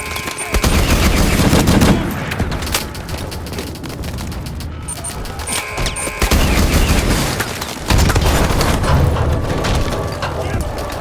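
Gunfire and rocket launcher shots in the video game Call of Duty Advanced Warfare: loud, sustained bursts of rapid automatic fire and heavy booms filling the whole stretch, with players talking over the din.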